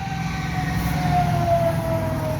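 Steady main-road traffic with a bus engine droning nearby and a faint siren-like tone sliding through, a continuous rumble with no talking.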